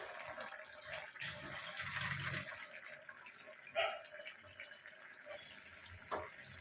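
Coconut powder mixed in water is poured into a pan for papaya malaikari, giving a continuous trickling, splashing pour at moderate volume with brief clinks near the end and no talk.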